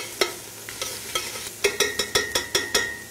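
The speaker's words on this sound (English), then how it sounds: "So I'm sauteing the mushrooms," Mushrooms sautéing with thyme in a pan, a soft sizzle beneath a quickening series of sharp clacks as a utensil stirs and taps against the pan, the strokes coming in a regular rhythm toward the end.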